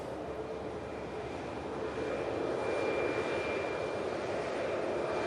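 A jet airliner in from Marseille taxis at Manchester Airport after vacating the runway, its engines a steady, broad roar with a thin whine on top, growing slightly louder partway through.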